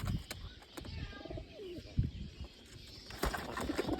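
Wild pigeons cooing around a home, soft rounded coos repeating a few times amid light fluttering and scattered background noise, fairly faint and near.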